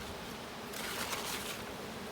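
Honey bees buzzing inside a jar during a powdered-sugar varroa mite test, a steady close hum that swells and brightens midway, with no voices.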